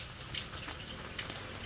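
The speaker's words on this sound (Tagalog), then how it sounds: "Ay, umulan na naman po." Light rain falls in a rural Philippine setting, a faint, soft patter of scattered drops over a brief stretch, with no voices.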